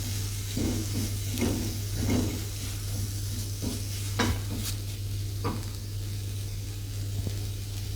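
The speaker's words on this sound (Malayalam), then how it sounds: "ചെറുതായി മുറിച്ച 2 പച്ചമുളക്, നന്നായി മിക്സ് ചെയ്ത്" Finely chopped green chillies stirred in a hot pan make a soft sizzle with repeated scraping strokes of a spoon, close and fairly quiet over a low steady hum.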